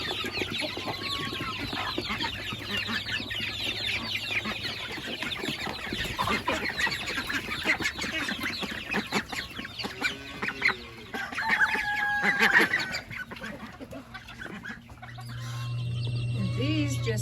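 Chickens cluck and murmur in a farm coop where a hen has been sitting on eggs and new chicks are kept, the clucking steady and fairly close with brief higher calls and some rustling.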